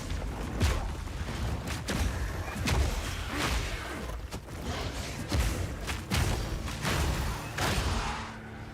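Bodies exploding from a skill in the video game Path of Exile 2, a dense run of repeated booming thuds and crunchy bursts, loud and continuous with no clear talking.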